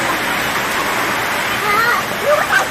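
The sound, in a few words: lots of water flowing in a farm field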